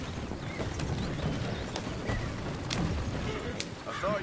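Horse hooves clip-clop in Red Dead Redemption, faint and irregular under a busy outdoor game ambience with birds and scattered thuds, steady throughout.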